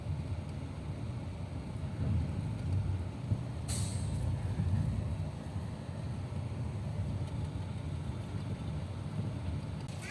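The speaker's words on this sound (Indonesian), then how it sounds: "Inilah momen-momen bus memasuki kapal ya." An MTrans bus on a trip from Denpasar rolls aboard a ferry, a steady low engine rumble and road noise filling the whole span, with a sharp hiss of air brakes partway through.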